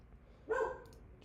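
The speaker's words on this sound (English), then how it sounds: "Hey, stop your barking now." A single short dog bark, fairly close and clear, rising out of a quiet room background and then fading.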